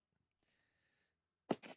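A single sharp sneeze, a quick breathy burst followed by a softer trailing part, after a faint quiet tone and near silence.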